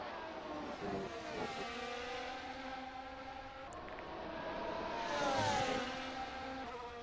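Faint, distant engine whines of racing cars in a video game drone and shift pitch, one rising to a louder pass before fading, with no voices.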